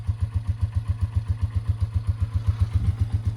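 A motorcycle engine catches and runs at a rough, low idle. Its pulsing putter keeps a regular beat, close and fairly quiet, with no voices.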